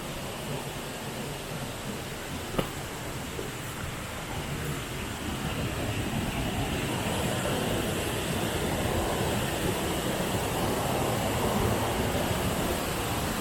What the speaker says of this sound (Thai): เสียงน้ำตกดังมากเลยครับ